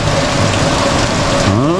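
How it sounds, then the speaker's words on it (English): Rain pouring down outdoors, a loud, steady wash of hiss and spatter filling the whole stretch, with a brief tonal sound near the end. "We'll take the rain."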